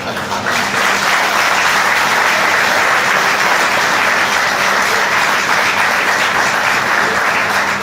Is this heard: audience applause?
yes